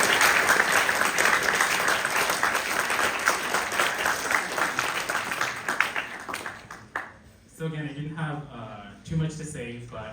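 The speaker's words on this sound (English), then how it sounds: "you all should give yourselves a round of applause" Loud applause from a crowd fills the room, then fades as a voice starts speaking over the last scattered claps.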